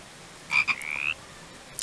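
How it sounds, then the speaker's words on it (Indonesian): A frog croaks in a short burst of two or three quick chirps followed by a longer trill, fairly close, alone against a quiet background. "Lihat tuh banyak kodok di situ."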